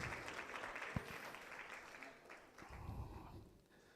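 Scattered applause from the audience at a men's conference in Ghana, faint and thinning out, with a voice and a few louder claps standing out at moments.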